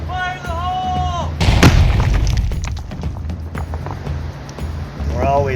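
A rock-breaking blast set off while prospecting for gold in Colorado, with a loud broadband boom about a second and a half in and a rumbling, crackling tail. Voices talk before and after it.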